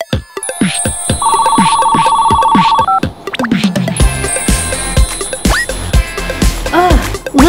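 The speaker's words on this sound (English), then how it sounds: "Can you turn your phone off?" A mobile phone plays a loud, bright ringtone melody in a movie theater, steady at first before it becomes more jumbled, with music and other sounds layered in afterward.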